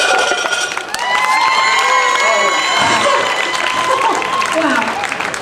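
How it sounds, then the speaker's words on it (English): A loud, close crowd cheers and whoops steadily at a strongman deadlift event, with shouts, applause and voices blending into a continuous roar for the full length. "I love the cheers of the crowd when we're doing this."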